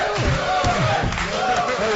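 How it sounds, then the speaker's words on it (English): Studio podcast audience breaks into loud, continuous cheering and shouting for two seconds, a dense crowd roar with raised voices mixed in. "Oh, you guys are cheering for my idea."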